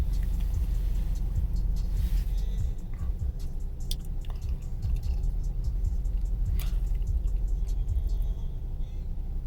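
Car driving on the road, heard from inside as a steady low rumble of engine and tyres with occasional faint ticks and clicks throughout.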